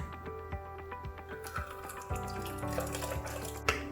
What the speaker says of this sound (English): And now we can pour in our tea.